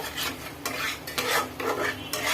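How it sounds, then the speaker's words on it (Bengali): A fish curry spice paste of ground raw onion and chili powder fries in a pan while a utensil stirs and scrapes through it in repeated loud strokes over a steady sizzle. "আর একটু কষে নেব।"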